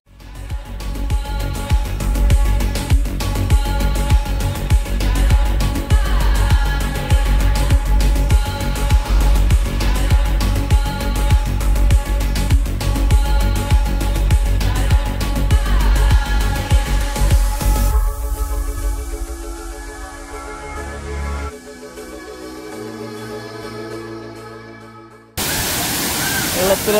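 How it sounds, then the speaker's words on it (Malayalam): Areekkal waterfall, a steady broadband roar of rushing water heard close and loud for over twenty seconds, dropping away abruptly near the end before a final burst of noise. "ഇവിടെ നിന്ന് വരുമ്പോൾ വെള്ളച്ചാട്ടം കാണുന്നത് ഇങ്ങനെയാണ്."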